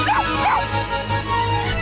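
A dog barks in short, high yips, two quick bow-wow barks followed by softer whimpering calls, close and fairly loud over a low background murmur.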